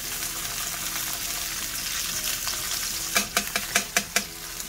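Tomato paste frying in a pan while braised short ribs are being prepared, a steady close sizzle that breaks near the end into a run of sharp spoon scrapes and taps against the pan.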